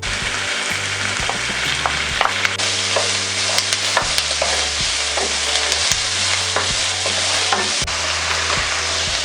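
Chicken pieces frying in a hot pan for lomi, with a steady loud sizzle and repeated scraping and clinking as a utensil stirs them close up; nobody speaks.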